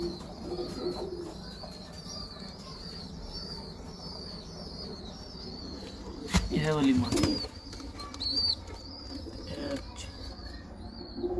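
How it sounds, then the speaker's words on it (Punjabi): Pigeons coo steadily around a loft while feeding on grain, with chicks and a paired red pigeon nearby; soft cooing runs throughout, a brief flurry of flapping and louder calls comes midway, and a voice speaks briefly. "ਹੁਣ ਵੈਸੇ ਦਾਣਾ ਖਾ ਰਹੇ ਆ ਕਬੂਤਰ ਸਾਰੇ"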